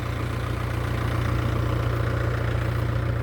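A tractor engine idles during irrigation canal work in a rural village, producing a steady, close, low mechanical rumble with an even pulsing beat and no talk.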